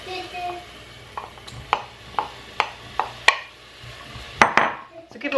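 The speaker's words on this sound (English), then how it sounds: "So give all that a good stir." Chopped carrot, celery and red pepper being stirred in a pot, a spoon knocking and scraping against the pan in several sharp clacks over a low frying sizzle.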